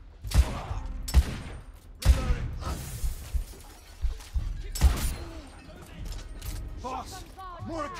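Shotgun enemies fire in a video game, with a burst of loud, sharp blasts at irregular intervals, some mixed with shattering and crashing impacts. Gameplay sounds crowd around the shots, and a voice briefly calls out near the end.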